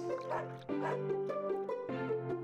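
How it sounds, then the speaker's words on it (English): Dog barks in a short repeated sequence, several bright yappy calls over a steady music bed, moderately loud and close. "Woof. Woof."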